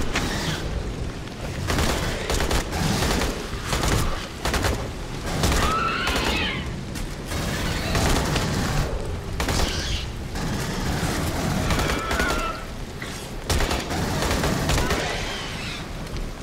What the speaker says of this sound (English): So we are using the assault rifle currently.